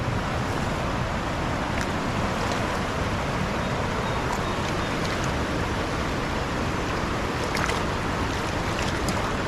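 High, raging river flowing past trees, a loud, continuous roar of rushing water, dense and unbroken throughout, with slight wind buffeting on the microphone.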